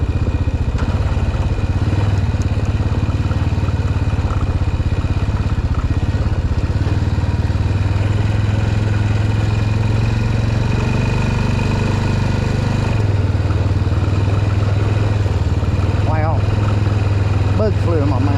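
A trail motorcycle running steadily on a riding trail, its engine a loud continuous rumble with slight shifts in pitch, heard close throughout.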